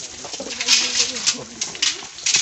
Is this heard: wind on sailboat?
no